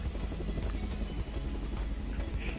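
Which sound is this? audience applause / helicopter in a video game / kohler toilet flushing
helicopter in a video game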